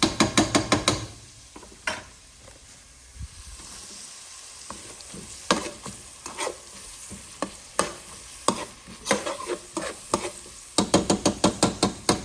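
Vegetables with bell pepper cook down in a pot with a constant low sizzle, broken by bursts of stirring utensil scrapes and clinks that come in quick clusters, close up with no talking.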